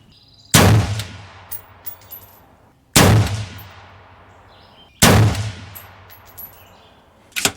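An AR rifle fires a three-shot group outdoors: three loud, sharp reports spaced about two seconds apart, each trailing off in a long echo, with faint metallic clinks between shots.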